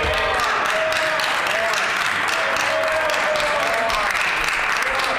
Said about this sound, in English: I suppose a delayed applause is better than no applause, hey?